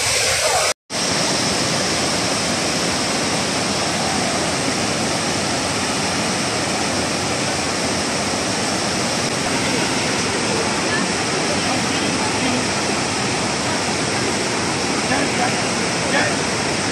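Steady, dense roar of a waterfall, loud and continuous throughout with a brief dropout near the start; people can be heard talking faintly beneath the rushing water.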